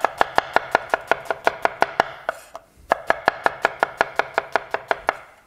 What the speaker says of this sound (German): Die Zwiebel schneide ich mir nur in Streifen.